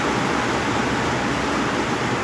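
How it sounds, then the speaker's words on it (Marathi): Heavy rain pours down during a hailstorm near a farm office, a dense, loud, unbroken roar of water filling the whole stretch with no voices. "भयंकर पाऊस पडले खतरनाक"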